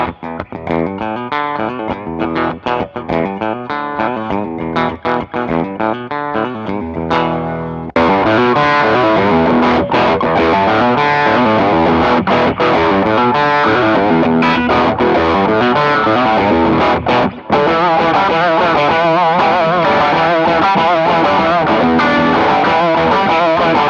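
Gibson-style Firebird electric guitar with mini humbuckers through a Vertex Ultraphonix overdrive pedal: a lighter picked passage, then a jump to a loud, dense driven chordal section that continues steadily with one brief dip.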